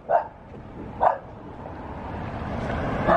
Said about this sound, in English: These little wiener dogs.